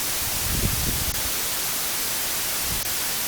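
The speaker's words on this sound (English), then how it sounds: "now our segment has been replaced by essentially white noise" A dense, even hiss of white noise fills a redacted stretch of recorded speech in Audacity, steady and fairly loud throughout, with a few faint low thumps showing through beneath it.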